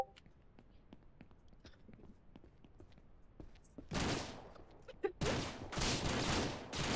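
Gunshots in the Ranch Simulator video game: a quiet stretch of light clicks and steps gives way to loud, close bursts of fire in the second half.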